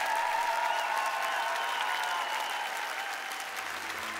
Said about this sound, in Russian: Аплодируйте ему, любите его, он этого заслуживает.